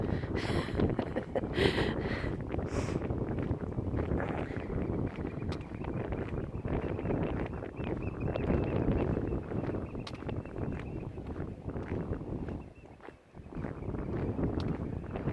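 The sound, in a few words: wind blowing on a coastal outcrop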